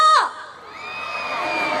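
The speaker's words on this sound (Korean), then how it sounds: "풍선 안 드셨는데 소리 지르셔서 감사합니다" A large crowd at an outdoor K-pop concert in Buyeo, South Korea shouts and cheers in a loud sustained roar, with high-pitched screams rising at the start.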